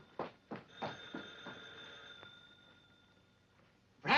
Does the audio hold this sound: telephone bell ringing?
yes